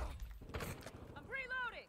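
A gun being reloaded in a first-person shooter game gives a mechanical clatter of clicks and metallic handling, faint under a player's voice and a brief tonal game cue near the end.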